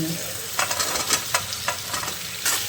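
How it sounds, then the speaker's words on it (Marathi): Eggplant sautéing in hot oil in a home kitchen, a steady loud sizzle broken by several scraping stirs of the spoon. "तेलामध्ये परतून घेते वांगी"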